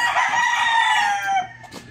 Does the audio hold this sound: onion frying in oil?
no